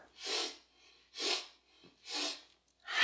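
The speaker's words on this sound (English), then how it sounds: "Breathing in 3 sniffs like you're filling yourself in 3 parts, and then emptying out with that strong sound" Forceful breathing exercise: four loud, evenly spaced bursts of breath, sharp sniffing inhales and strong exhales with short silent gaps between, close and clear in a quiet room.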